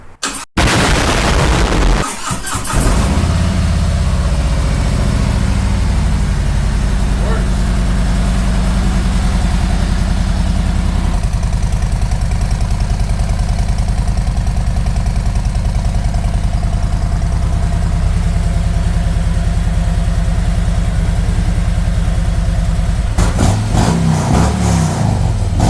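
A Harley-Davidson Road King fitted with a Vance & Hines Fuelpak FP3 cranks over and fires up, then settles into a loud, steady, rumbling idle that holds for about twenty seconds before some handling noise at the end.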